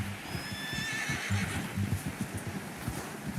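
A horse in Red Dead Redemption 2 whinnies loudly and close by, with hoof clip-clops and snorting mixed in.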